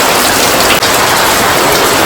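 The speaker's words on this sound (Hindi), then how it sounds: "और ये बारिश देखिए फिर से होने लगी, हल्की सी बंद हुई थी फिर से होने लगी है।" Heavy unseasonal rain pours down outdoors in a loud, dense, unbroken hiss, close to the microphone, with no talk.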